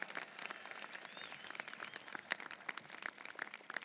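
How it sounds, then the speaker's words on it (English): Faint, distant applause from a college graduation audience, a steady patter of scattered claps lasting a few seconds. "Let's give her another round of applause."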